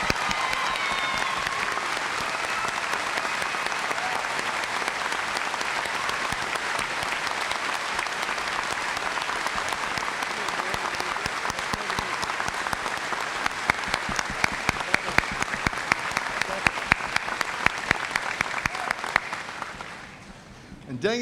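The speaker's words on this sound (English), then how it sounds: "Please give them your applause." A large crowd applauds at a 2017 high school graduation ceremony, honoring Armed Forces students; the clapping rolls on steadily for about twenty seconds, sharpening near the end before fading out.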